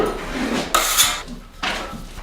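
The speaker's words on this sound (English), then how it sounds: "I take my 14-inch bevel trowel and I just run it along the seam, along the center of the seam, to smooth out the joint compound." A 14-inch bevel trowel scrapes along a drywall seam, smoothing joint compound in a few close, rasping strokes with brief gaps between passes.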